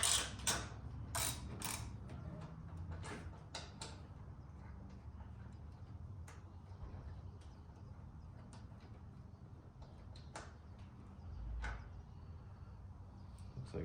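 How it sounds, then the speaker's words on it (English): A Torx 40 bolt holding the front of a motorcycle fuel tank is backed out, giving close clicking ratchet strokes that are dense at first and then sparse over a steady low background hum, with no voices. "So I'm gonna pull this Torx 40 out of here."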